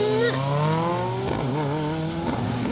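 Rally car engine on a gravel forest stage during a Welsh rally, revving hard with rising and falling gear pulls, loud and continuous throughout, with faint tire noise beneath.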